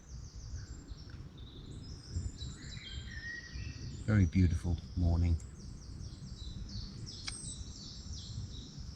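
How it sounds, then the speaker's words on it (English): Birds sing a dawn chorus in the early morning, with steady high chirps and tweets throughout, while a nearby voice speaks briefly over the middle. "as you can hear by the birds doing their dawn chorus"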